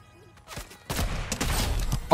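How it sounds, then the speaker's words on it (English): Sniper rifle fire in Fortnite, a sharp shot cracking out amid a burst of loud, close in-game gunfire and impacts lasting a couple of seconds. "Oh, headshot snipe."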